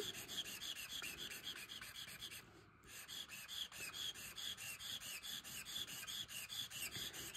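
Posca acrylic marker scratching across shrink plastic, a close, steady rasping rub repeating in quick even strokes with a brief pause partway through, no voices.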